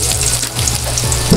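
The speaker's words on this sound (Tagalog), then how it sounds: "Ang pinaka ipa-fry ko lang talaga dito is yung bawang lang talaga." Garlic frying in a pan crackles and sizzles steadily, close and fairly loud, with a dense bright spatter and a low background hum throughout the short moment.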